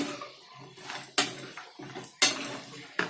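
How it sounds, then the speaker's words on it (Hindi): Soya chunk manchurian ingredients are tossed together in a pan, with repeated clanks and scrapes of a utensil against the metal in uneven bursts, fairly close and with no talking. "अब आप इन सबको अच्छे से मिक्स करिए।"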